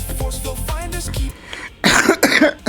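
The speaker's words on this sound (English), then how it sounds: "I don't mean to cough." One person coughs in a quick cluster of harsh bursts near the end, after a short stretch of voice and background sound.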